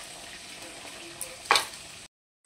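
Pointed gourd and potatoes fry in a pan with a steady soft sizzle, broken by one sharp clatter of stirring before the sound cuts off.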